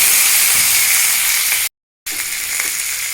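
Yardlong beans drop into hot oil already tempered with cumin seeds and dried chillies, giving a loud, steady, close sizzle and hiss that cuts out briefly before carrying on just as strongly.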